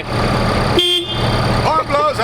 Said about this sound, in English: We're going to honk at Tozy.